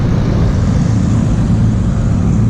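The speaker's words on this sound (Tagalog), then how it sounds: "Ito na yung traffic." Steady, loud road traffic rumbles past on a busy road near an intersection in the Philippines, with cars and motorcycles blending into a continuous low drone and no talk.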